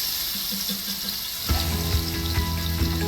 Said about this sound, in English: we're gonna throw in the onions